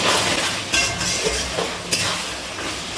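Chicken darbari being stirred in a pan over a high flame, with a loud continuous frying hiss and a few brief scrapes and clinks of the utensil against the pan, no voices.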